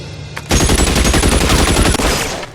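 Loud, close burst of rapid gunfire in the video game L.A. Noire: a sustained volley of overlapping shots that starts abruptly and then tapers off with a short decaying tail.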